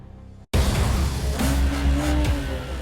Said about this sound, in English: Already from a start line, BMW is confidently going away from Porsche Macan